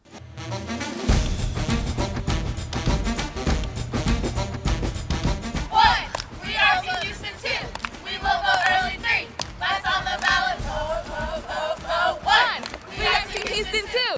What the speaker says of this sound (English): We leave you now with a special Get Out the Vote cheer from LAMAR High School.